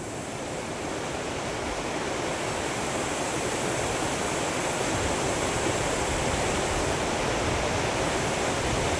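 Steady, loud broadband rush of river water pouring over a white cascade, continuous and close with no voices.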